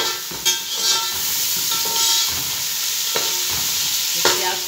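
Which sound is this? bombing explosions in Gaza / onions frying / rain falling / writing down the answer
onions frying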